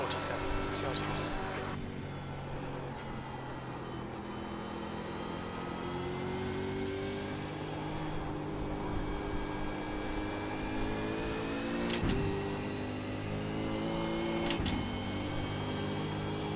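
A V8 Supercar in iRacing at Suzuka revs through gears with quick short shifts, a continuous buzzing engine whose pitch climbs and drops in steps, with a couple of sharp clicks, and no talk over it.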